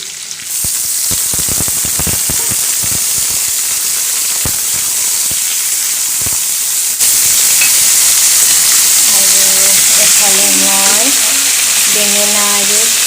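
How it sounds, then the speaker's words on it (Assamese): Eggplant and pointed gourd fry together in a pan with a loud, continuous sizzle and hiss, broken by sharp clicks and pops early on, while a voice is briefly heard near the end. "বেঙেনা আৰু পটল ভাজি আছোঁ"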